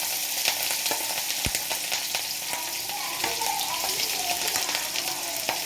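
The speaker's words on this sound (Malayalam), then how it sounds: "അതിനകത്തേക്ക് ഈ പച്ചമുളകും വെളുത്തുള്ളിയും ഇട്ട് കൊടുക്കുന്നുണ്ട്." Mustard seeds, curry leaves, green chili and garlic frying in hot oil for a ladies finger mezhukkupurati, a dense continuous crackling sizzle close up, with one brief knock partway through and no voices.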